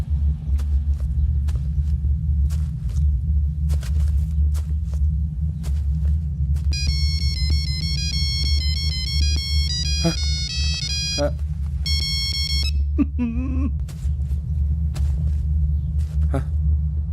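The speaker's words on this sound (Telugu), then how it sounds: "Ring tone sir." A mobile phone ringtone plays a tinkling electronic melody for several seconds over a low steady rumble of a room or vehicle, briefly cutting in and out, with a few short knocks and thumps around it.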